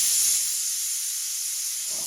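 Steam hisses steadily from a pressure cooker whistle as dal boils on a kitchen gas stove, a continuous bright rushing release that holds for about two seconds with a faint low rumble underneath.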